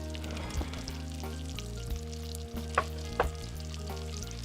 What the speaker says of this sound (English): you want to put the coconut cream in there?